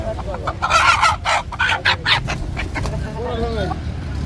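A local country rooster at a market clucks and calls in a few loud, close bursts, followed by softer rising calls, with people talking around it.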